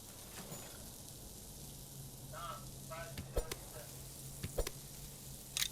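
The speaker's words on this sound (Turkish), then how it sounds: "Köftelerimiz pişiyor." Meatballs sizzle on a griddle in the video game Fast Food Simulator, a steady quiet crackling fry with a low hum, broken by a few sharp clicks and brief muffled voices.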